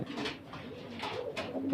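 A broody pigeon that drags nesting straw and sits without laying gives several throaty coos in quick succession, close and clear.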